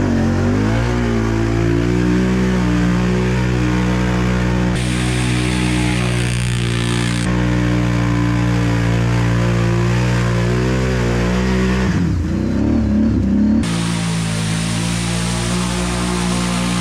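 Can-Am Renegade ATV engine revving hard at full throttle while plowing through mud, a loud, sustained close-up roar that surges and dips in pitch across the run.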